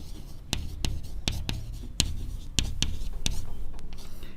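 Points being written on a board during a physics lesson, a quick series of sharp, scratchy strokes and taps at irregular intervals over a soft background hiss, close and clear with no talking.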